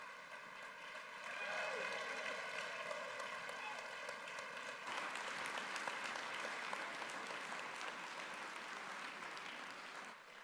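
A round of applause from a gathered crowd at a centenary celebration as a new photo for a fireside lounge is unveiled, sustained clapping under a faint background tone and some murmured voices.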